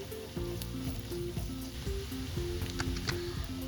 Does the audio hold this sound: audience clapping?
no